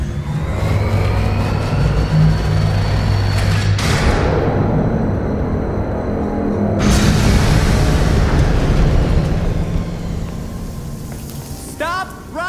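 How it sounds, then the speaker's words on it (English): A large laser weapon system firing in the Gotham Knights video game: a loud, sustained roaring blast with booming rumble that cuts off abruptly, then resumes, with game voices talking over it. "This must actually fire the laser"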